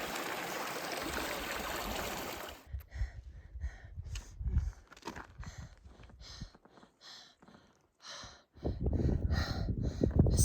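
A small mountain creek on a high trail rushes in a dense wash of water noise for the first few seconds, then gives way to close hiker breathing and footsteps.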